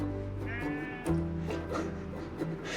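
Sheep bleating on a farm, a few wavering, nasal bleats from more than one animal, moderately close, over a quiet background of other farm sounds.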